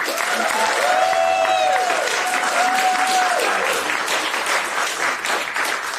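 Audience applauding to welcome a guest at a Wisconsin public gathering, a sustained wash of many hands clapping at moderate distance, a whistle-like tone briefly riding over it early on.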